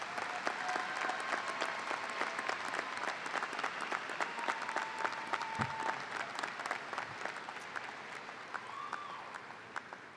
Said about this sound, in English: Graduates, please join me now in giving a round of applause to thank these family members,